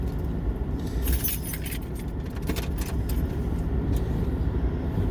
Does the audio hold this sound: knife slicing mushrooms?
no